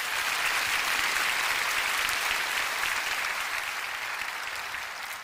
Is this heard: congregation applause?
yes